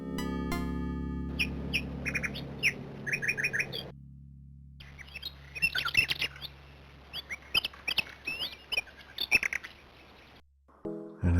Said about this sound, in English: but also look at that woodpecker.